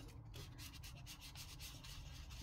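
Steady, close rubbing and sanding scrape against the paper of a book spine being distressed, a continuous rasping texture with quick repeated strokes and no talk.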